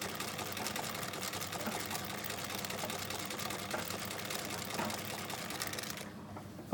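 A sewing machine runs a continuous stitch across a fabric pouch with lace, giving a fast, even mechanical chatter at moderate distance that stops abruptly near the end.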